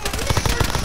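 Rapid automatic gunfire in a multiplayer squad shooter video game, a short burst of close, dense rattling shots in quick rhythm.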